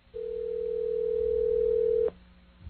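Steady telephone dial tone heard while a call is placed during a radio show, one continuous loud tone for about two seconds that cuts off abruptly, leaving faint line noise.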